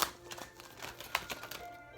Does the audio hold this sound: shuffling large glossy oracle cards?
yes